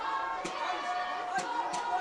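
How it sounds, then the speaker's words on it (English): A rugby derby crowd at a Progress RFC versus Buffaloes match keeps up a steady roar and shouting, with a few sharper cheering peaks, at a moderate distance under a commentator's voice. "And the crowd is shouting what they all want"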